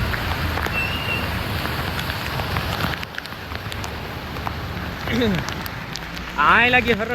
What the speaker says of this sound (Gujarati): આવે ને વરસાદ